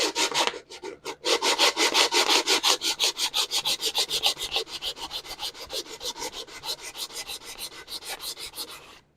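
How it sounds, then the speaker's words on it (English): Wood being hand-sanded lightly with 150-grit sandpaper, a steady series of rhythmic back-and-forth scratchy rubbing strokes, close and loud, quickening and fading slightly toward the end with no talking. "So what I'm going to do is just kind of light sanding."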